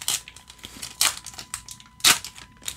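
Crinkly plastic wrapper of a Metazoo UFO booster pack being torn open, crackling in several loud bursts close by with short pauses between.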